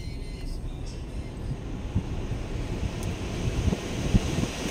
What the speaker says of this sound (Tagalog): Then on na natin yung aircon.